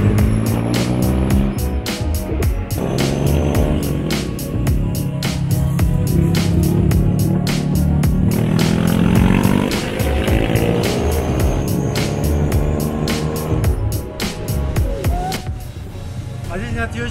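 A tuk-tuk carries passengers through Chinatown toward the Golden Temple, its small engine buzzing and revving through changing speeds, with passing traffic and horn-like tones over continuous road noise.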